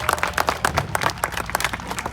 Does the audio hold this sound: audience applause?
yes